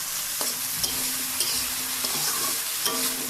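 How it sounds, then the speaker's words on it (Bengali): Potatoes frying in hot oil with onion, garlic, ginger and turmeric, a steady close sizzle broken by a few sharp scrapes of a spatula at intervals, with no talking. "খুব ভালো করে আলুগুলো ভেজে নেব"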